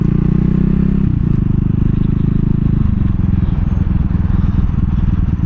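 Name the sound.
CCM Spitfire Bobber motorcycle being ridden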